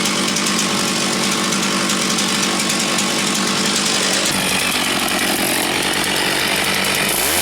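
A chainsaw trims the overlong legs of rough wooden furniture, a loud, close, continuous engine roar with a rasping cutting edge that shifts in tone partway through as the cut changes, with no talking.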